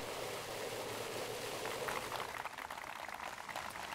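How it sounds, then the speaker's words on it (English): Water flowing in a city park, a steady close rushing and bubbling like a fountain or small stream, continuous and fairly quiet with no talk. "the sound of the water, the birds, the breeze, the perfect weather"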